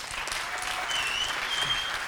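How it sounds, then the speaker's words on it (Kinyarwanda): A crowd at a stage event in Rwanda applauds steadily and loudly, a dense wash of clapping with no voices. "Amashyi menshi cyane."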